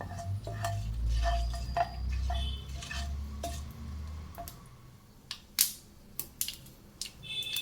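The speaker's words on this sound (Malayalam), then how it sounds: "കടുക് പൊട്ടി തുടങ്ങി." Mustard seeds with fenugreek, curry leaves and a dried red chili crackle in hot oil for pineapple pickle, with scattered sharp pops and ticks over a low rumble that fades out midway.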